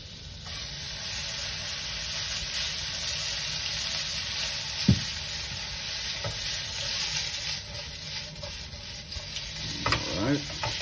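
Linguine with garlic is stirred in a hot pan, sizzling and frying steadily with a constant crackling hiss, while a utensil scrapes and clinks against the pan now and then.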